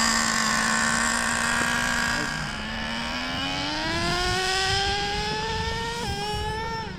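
A nitro RC drag car's engine screams close by, its pitch climbing steadily through the revs, then dropping sharply as it shifts gear before rising again, loud and continuous throughout.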